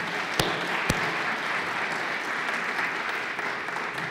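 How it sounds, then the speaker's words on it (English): Sustained applause from the audience at a school of public service lecture, a broad steady roar of many hands clapping with a couple of sharp close claps early on. "he deserves a round of applause."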